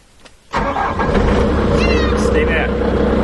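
A Bobcat S250 skid steer engine cranks and catches after a short pause, then runs at a loud steady diesel clatter up close while a person talks over it.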